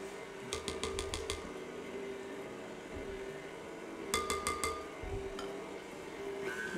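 A spoon stirs dip batter and milk in a bowl, giving quick runs of light clinks and taps in two clusters over a quiet background hum.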